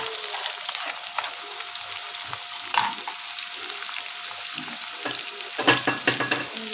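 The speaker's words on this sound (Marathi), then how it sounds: "मी परतून घेते." Vegetables sautéing in a pan, a steady close sizzle of frying with occasional scraping stirs and a few clacks toward the end, no voices.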